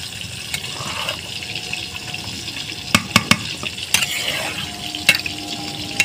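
Cabbage curry with prawns sizzles steadily in a pan while a spatula stirs it, with a few sharp scrapes and clanks against the metal standing out over the continuous frying hiss; no speech.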